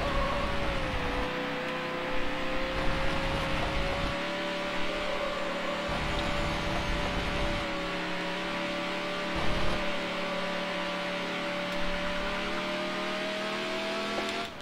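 A racing car engine in the video game Need for Speed HP2 drones at high revs on the Alpine Trail track, a sustained loud whine with brief dips as gears shift, heard alone without talk.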